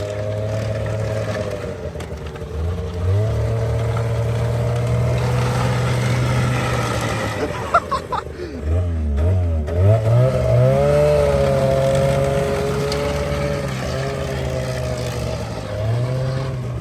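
An Arctic Cat 370Z snowmobile with an air-cooled engine runs on dry ground, a loud, steady two-stroke drone whose pitch rises and falls with throttle blips and revs, and a brief dip in the middle before it picks back up.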